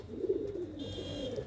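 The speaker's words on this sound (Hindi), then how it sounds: "जिन्ने वधिया नसल दे कबूतर आ जिवें तुसीं देख रहे हो" Purebred pigeons kept for sale in Ludhiana cooing, soft low rolling coos close by with a faint background hum.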